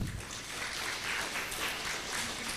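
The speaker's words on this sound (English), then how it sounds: "round of applause for Ibu Oos" A seated audience at a health workers' conference gives a round of applause for someone speaker, a steady dense patter of clapping from the room that holds at an even level with no talk over it.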